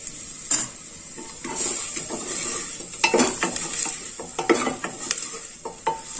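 Vegetables and spices being stirred in a pan for savory oats, a spoon scraping and knocking against the metal in repeated strokes over a faint sizzle, close and fairly loud.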